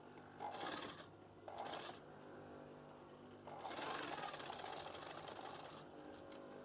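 Curtain fabric being stitched on a sewing machine: three separate bursts of fast, close whirring, two short ones and then a longer run, with quiet gaps between them. The overall level is fairly soft.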